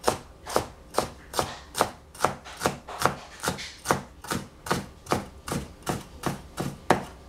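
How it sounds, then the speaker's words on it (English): A knife chops food into small cubes on a board in a steady, even rhythm of about twenty sharp, close knocks, heard alone without talk. "And cut it into small cubes."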